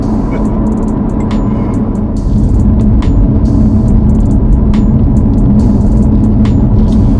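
A 2017 BMW M3 Competition driving on winding roads, heard as a steady loud engine drone and rumble from inside the car, rising slightly partway through, with no talking.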